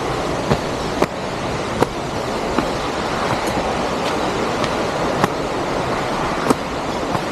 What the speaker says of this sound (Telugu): ఇక్కడ ఇంకోటి వాటర్ ఫాల్స్ ఉంది, సౌండ్ వస్తుంది.